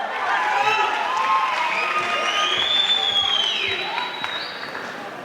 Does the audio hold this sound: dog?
no